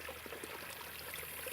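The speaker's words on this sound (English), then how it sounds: "All of my tubes are flowing." Water flowing steadily through tubes in a beaver dam: a soft, continuous trickling stream close by, with no talking.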